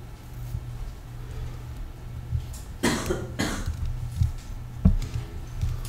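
A person coughs a few times in a quiet indoor setting, two or three harsh bursts near the middle followed by a couple of smaller throat sounds.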